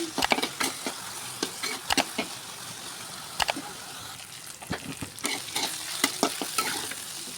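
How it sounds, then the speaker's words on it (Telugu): Brinjal pieces fry with green chillies and a little salt in a pan, a close, constant sizzle punctuated by frequent clattering scrapes and taps of a spatula tossing the pieces. "ఫస్ట్ పచ్చిమిర్చి వేపుకున్నాక వంకాయ ముక్కలు వేపుకోవడానికి కొంచెం ఉప్పు వేస్తే తొందరగా మగ్గుతాయి"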